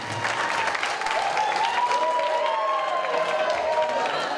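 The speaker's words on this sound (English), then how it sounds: "Ladies and gentlemen, give them a round of applause." Sustained applause and cheering fill a wedding reception hall, dense and steady clapping with a few whoops rising above, loud and close throughout.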